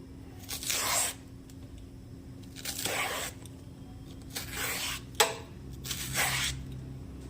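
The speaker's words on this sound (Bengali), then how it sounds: "ছোট ছোট করে পিস করে নিলাম এভাবে সবগুলো পিস করে আমি এইভাবে ছিঁড়ে নিলাম" Taro stems torn apart by hand into small pieces, giving four distinct bursts of close, crisp fibrous ripping separated by quiet pauses, with a faint steady hum underneath.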